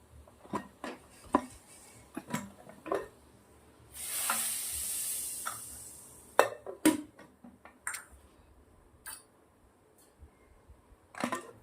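A spoon stirs freshly tempered dal in a pot after garlic, Kashmiri chili powder and asafoetida are added, giving scattered close clinks and scrapes with a brief hiss of sizzling in the middle, no talking.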